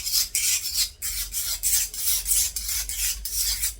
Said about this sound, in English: To smooth the edges out, I actually just rub it on concrete.